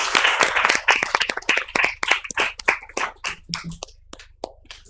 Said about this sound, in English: This is brilliant, and a round of applause